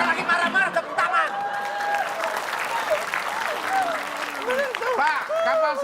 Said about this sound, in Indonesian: Ini malah tepuk tangan lagi